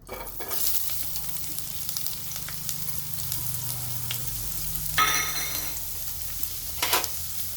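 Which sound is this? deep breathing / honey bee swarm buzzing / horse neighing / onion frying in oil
onion frying in oil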